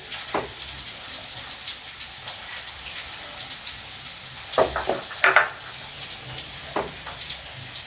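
Chopped onion hitting hot oil in a pulao pot with coriander and mint, giving a steady close sizzle with scattered pops and a few louder crackles, no talking.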